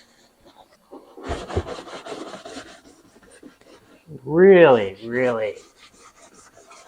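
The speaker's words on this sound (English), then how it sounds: "hard to scrub off." Scrubbing inside a dishwasher coated with orange biofilm, a burst of rough rubbing strokes near the start, followed by a voice speaking.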